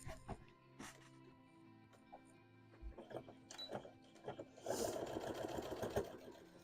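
An embroidery machine stitching out antennas for a Mothman hat hums with a steady mechanical rhythm, then grows louder and busier in the last couple of seconds, with no talking.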